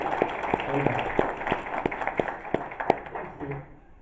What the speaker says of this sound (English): Can everyone get a round of applause for Greg?